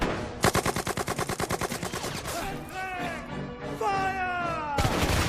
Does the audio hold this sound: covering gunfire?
yes